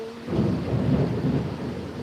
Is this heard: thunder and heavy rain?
yes